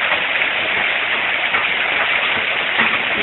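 Large hailstones pound the ground in Shadyside, a steady dense roar of impacts with no letup.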